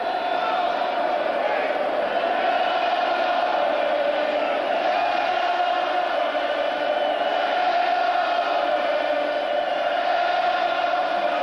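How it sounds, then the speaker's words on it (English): Stadium crowd at a 1988 Monday night Broncos vs. Colts game in Indianapolis chanting Elway's name, a steady distant roar of massed voices, echoing and sustained without letup. "Crowd with one final Elway chant, even though Kubiak's in the game"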